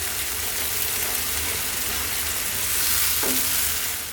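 An eggplant and tomato pasta sauce bubbles and sizzles in a pan, a constant close frying hiss with a brief scrape of stirring near the end, no talking.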